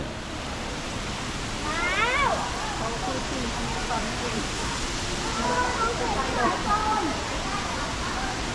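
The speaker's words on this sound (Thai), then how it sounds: "นี่เขามีน้ำตกด้วย" An outdoor waterfall at a botanical flower exhibition garden in Ban Chang, Rayong, makes a constant rushing hiss under talk, with chirping birds faintly audible over the steady water noise.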